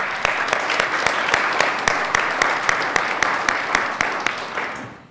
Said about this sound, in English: I definitely want to take a moment as well to applaud for all the parents that are here with us tonight.